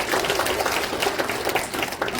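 Audience applause at a veterans' association security forum in Songpa, a dense steady patter of many hands clapping at moderate level, continuous throughout without a break.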